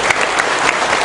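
An audience at an anti-corruption discussion with Cak Nun and Prof. Mahfud MD breaks into loud, dense applause, a steady wash of many hands clapping close by.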